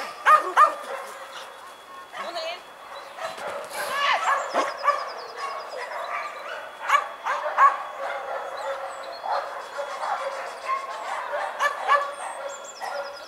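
Several dogs bark in scattered, repeated bursts, some near and some farther off, with yips mixed in and brief voices in the background.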